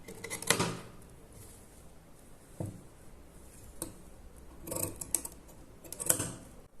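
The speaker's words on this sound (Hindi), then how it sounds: "अब यहाँ से जो हमारा एक्स्ट्रा कपड़ा है इसको काट देंगे।" Scissors snip extra fabric while a salwar is being cut, a few quiet, sharp clicks spaced irregularly, with soft handling noises between them.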